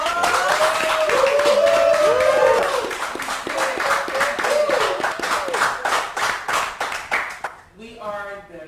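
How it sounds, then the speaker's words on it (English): An audience at a Juneteenth event applauds, clapping hands mixed with cheering and whooping voices, then the claps thin into a few sharp rhythmic ones before a voice takes over. "let's give this applause"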